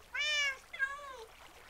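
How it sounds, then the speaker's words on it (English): Cats mewling close by, two drawn-out, whiny meows in quick succession, the first louder and the second trailing off, over a quiet background. "of the mewling cats"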